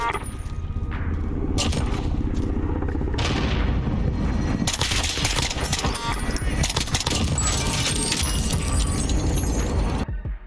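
Rapid SKS rifle shots from the Call of Duty Warzone video game, heard as loud, dense, sustained bursts of crackling gunfire with heavy booms that continue almost without pause until a sharp cutoff near the end.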